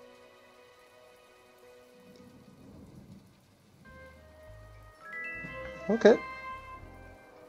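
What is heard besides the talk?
rain and thunder in the desert, from the video game My Time At Portia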